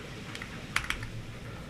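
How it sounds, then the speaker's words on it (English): Soft clicks from a mechanical keyboard fitted with Waizowl Christmas Blessing keycaps come through in a short, uneven burst of a few keystrokes over quiet background hiss. "That way I can do a typing test and not stop the recording"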